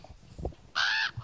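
A crow gives a single loud, harsh caw lasting about a third of a second. It stands out over quiet, murmuring background sound at a 2009 children's stage performance of the fable of the crow and the fox.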